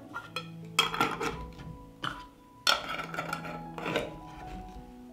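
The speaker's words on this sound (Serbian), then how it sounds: "Zatvaram tegle sa čistim i novim poklopcima." Clean new lids being put on glass preserving jars whose rims were wiped with vinegar: a few clear clinks and knocks of lid against glass, spaced apart with quieter handling between.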